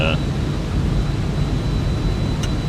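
A Vision Jet in Microsoft Flight Simulator gives a steady, broad jet engine roar with a faint high whine, constant and close throughout, with a short chime at the start.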